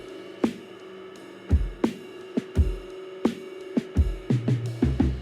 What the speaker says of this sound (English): So then I added an EQ8 and kind of dipped out some of the low end and the top end.